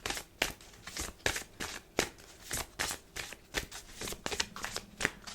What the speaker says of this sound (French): c'est pas forcément pratique de vous montrer quand je bats les cartes